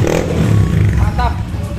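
A 2002 Honda Win motorcycle engine idles with a low, close rumble, partly masked by someone talking over it.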